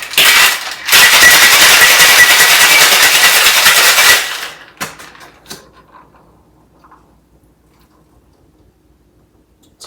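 Ice rattles hard inside a cocktail shaker for a Long Island Iced Tea, a loud dense shaking that runs about four seconds and then stops, followed by a few faint knocks.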